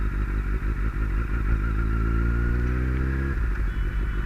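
Kawasaki Z800 motorcycle engine idling and briefly revving, a loud, close, steady rumble with a rising pitch before it drops back, running alone with no talk.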